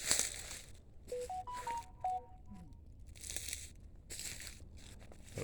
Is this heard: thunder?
no